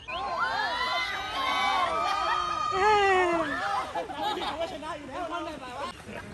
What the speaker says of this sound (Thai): มาดูคนอื่นเขาล่องบ้างเสียงดังกันมาเชียร์